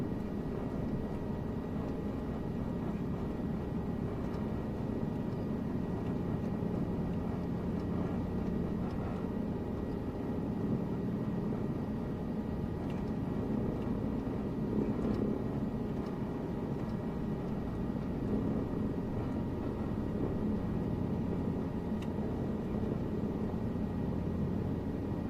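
Simulated helicopter in MSFS 2024 during a certification test: a continuous, even engine drone with rotor rumble, steady and close throughout with no change in level or pitch.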